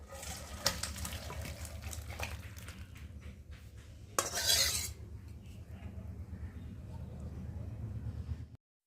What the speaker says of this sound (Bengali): আর আমি এখন তরকারিটাকে ঢালতে থাকি।